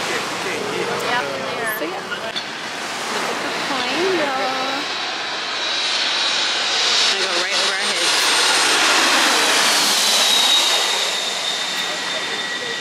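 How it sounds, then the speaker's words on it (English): A jet airliner flies low over Maho Beach in St. Maarten, right beside the airport. Its roar swells from a distant rumble to a loud, sustained peak while surf washes and people chatter nearby. "Y'all saw the airplane fly past."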